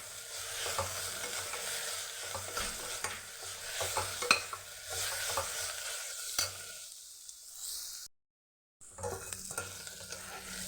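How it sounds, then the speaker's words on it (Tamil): Onions sautéing in a pan for a Tamil ridge gourd kootu, with a steady sizzle and repeated scraping stirs throughout; everything drops out briefly near the end before the frying resumes. "பாருங்கள், வெங்காயம் நல்லா வதங்கிருச்சு"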